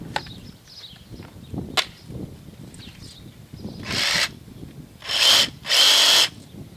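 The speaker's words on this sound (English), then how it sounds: "Need a battery for the reciprocating saw." A battery-powered reciprocating saw runs in three short bursts, each a loud buzzing rasp lasting under a second, preceded by clicks and handling knocks from a DIY quail feeder build.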